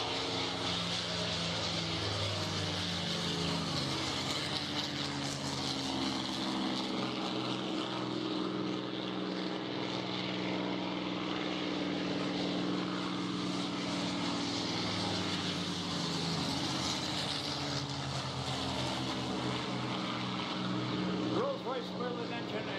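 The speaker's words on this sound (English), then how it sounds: "So that's the sound of a P-51 Merlin engine." P-51 Mustang with a Merlin engine flying past at an airshow, a continuous throaty propeller drone with layered engine tones, steady and moderately loud throughout.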